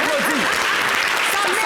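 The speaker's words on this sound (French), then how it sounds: "Ça s'applaudit." A crowd applauds steadily, with dense clapping and some cheering voices in the room.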